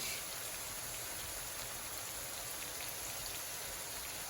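Liquid from a can poured into a pot of shrimp and grits, a steady close splashing wash that runs evenly and alone for the whole moment.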